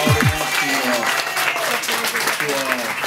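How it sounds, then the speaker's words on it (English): Guests at a family gathering in Hawaii applaud warmly, a steady wash of clapping with voices calling and talking over it throughout. "Let's give all applause of a hand"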